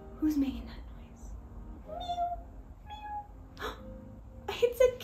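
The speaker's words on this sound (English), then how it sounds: "It's a cat. The cat is meowing." A cat meows several times in short, rising-and-falling cries spread over about five seconds, clear and fairly close, with brief gaps between calls.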